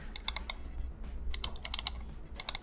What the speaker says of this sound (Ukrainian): з боковими кнопками все добре, вони мають короткий чіткий клік